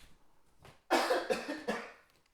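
A voice imitates a cough as a comedy sound effect, with a few short, raspy hacking bursts close to the microphone.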